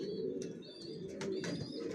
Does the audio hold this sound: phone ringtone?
no